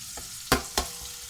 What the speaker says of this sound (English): we're going to actually leave the onions and the chili to actually cook together for the spice blend